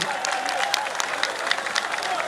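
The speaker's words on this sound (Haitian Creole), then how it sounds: "demandez pour nous applaudir, merci" Crowd applauding at a carnival launch in Port-de-Paix, a dense steady wash of clapping with scattered cheers, moderately loud and continuous throughout.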